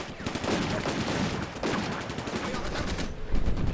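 Gunfire from an Italian tank in the WWII strategy game Combat Mission: Afrika Korps, a dense sustained fusillade of rapid shots and bursts, loud and continuous, with a voice talking over it.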